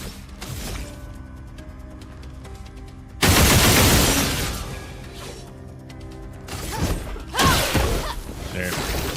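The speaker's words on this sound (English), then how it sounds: "Oh yeah, I gotta shoot them all." Gunfire and crashing impacts from a battle in the video game Expedition 33: a loud, dense burst of shots and shattering hits, then quieter clatter and another heavy volley, with brief voice in places.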